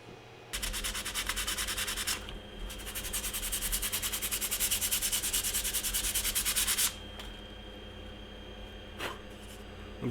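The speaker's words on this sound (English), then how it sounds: "I'm just sanding down some of the high spots on here." Sandpaper rubs steadily across high spots on a 3D-printed Rocket Raccoon model, a close, rapid scratchy rasp in long strokes with a short break, then fading to quieter rubbing.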